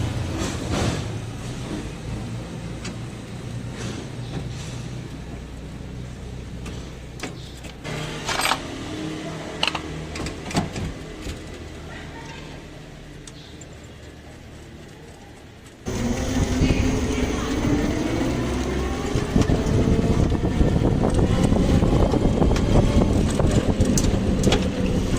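A repaired electric tricycle, topped up with oil through its filler screw, runs with a steady mechanical drone that jumps louder partway through into a rising motor whine, with no knocking.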